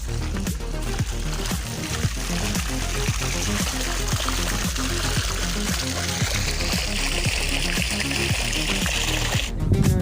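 Irrigation water gushes and pours steadily into a field along with a rhythmic mechanical chugging, loud and continuous throughout, with no speech.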